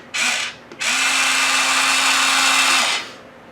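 Huina 1577 toy forklift's small electric motor whirring loudly with a high, steady whine, a short burst followed by a brief pause, then a longer sustained run of about two seconds that cuts off.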